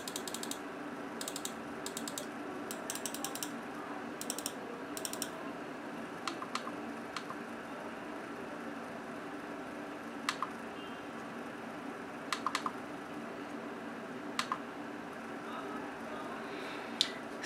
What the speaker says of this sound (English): Now let's go to the mouse and see how it sounds.